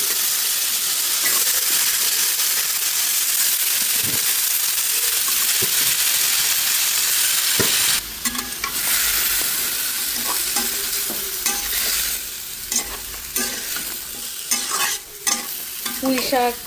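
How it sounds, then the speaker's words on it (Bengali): Malabar spinach and jackfruit seeds fry in cooked masala with a loud, continuous sizzle, later broken by repeated clattering stirs and scrapes of the utensil in the pan. "তো এখন এই কষানো মশলার মধ্যে দেখুন দিয়ে দিব পুঁই শাক আর কাঁঠাল বিচি।"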